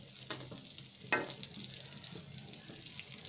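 Golda prawns fry in a pan with a faint, steady sizzle, broken by a couple of brief stirring or splashing bursts, quiet and close, with no speech.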